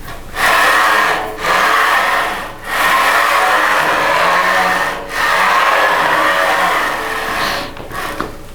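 A power driver whirs in bursts while screws are driven during the build of a wooden CNC machine. The bursts are loud, close and separated by brief pauses, with no talking.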